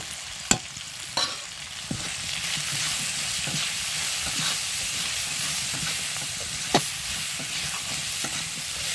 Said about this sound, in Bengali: তো এগুলো ভাজা হয়ে যাওয়ার মতো হয়ে গেছে এবার দেবো শুকনো লঙ্কার দিকে